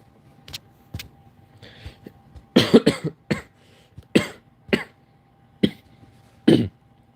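A series of sharp, separate coughs, about ten of them at irregular intervals, fairly close and loud, with a few bunched together near the middle.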